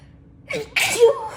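A single close, sharp human sneeze with a short breathy intake just before it, in an otherwise quiet indoor setting.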